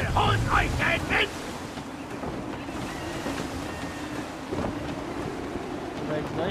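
Wind and open-sea wash around a sailing ship in Assassin's Creed 3, a steady rushing bed of gusts and water running throughout, with a short burst of voice-like chatter near the start.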